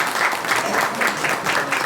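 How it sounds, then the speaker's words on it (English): Audience applause for the panelists at the close of a policy discussion session: a brief, steady burst of many hands clapping, with a faintly pulsing rhythm and no talk over it. "Maybe please have a very hearty round of applause"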